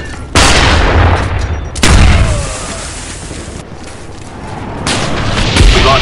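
Gunfire in a Black Ops multiplayer match: loud, booming bursts of weapon fire and explosive blasts with rumbling tails, a few separate volleys across the span.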